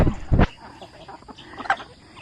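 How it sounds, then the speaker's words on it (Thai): Backyard chickens giving a couple of loud close clucks at the start, followed by quieter scattered clucking and soft farmyard sounds. "ไก่เบนจะกับผองเพื่อน"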